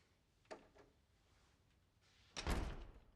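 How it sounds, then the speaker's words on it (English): An office door in a film scene, pushed shut with a soft knock and then a heavier thud as it meets the frame, quiet and close with no talking. "Close the door."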